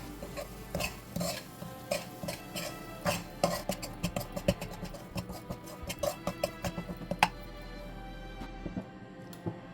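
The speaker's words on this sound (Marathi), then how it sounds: "हा रवा आपल्याला 7 ते 8 मिनिटं मध्यम आचेवर चांगला भाजून घ्यायचा आहे." Semolina roasting in ghee in a pan over medium heat for karanji filling, quick repeated scrapes and taps of a spoon stirring the grains, close and rhythmic with a faint sizzle beneath.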